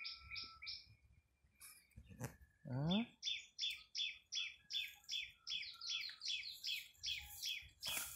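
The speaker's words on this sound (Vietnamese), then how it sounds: "Vườn hầm hồng có chim, tiếng chim sâu hót á." Small songbirds sing in a rose garden, a rapid run of repeated bright chirps and trills carrying on throughout, fairly close and clear, with one short word spoken early.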